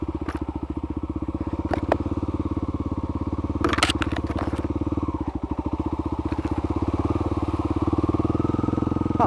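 Kawasaki KLX motorcycle with a newly fitted exhaust idles steadily up close, a rapid even thump running throughout with a few light clicks and clatters on top.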